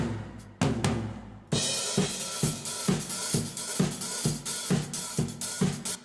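Drum overhead tracks played with reverb added for a sense of room depth: opening hits followed by a steady groove of cymbal wash, snare and kick strikes that ring out with a roomier, more spacious tail, with no talk.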